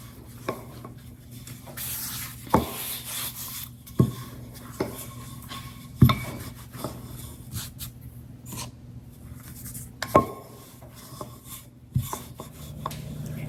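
Cracker dough being rolled out on a silicone mat with a rolling pin, giving soft rubbing and rolling sounds with several sharp taps and knocks spread through, at a quiet level with no talking.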